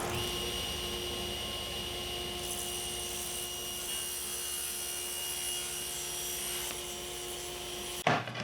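Table saw runs steadily while a wooden leg is fed through on a tapering sled, a loud continuous whining hum with sustained cutting noise, ending with the blade spinning down abruptly.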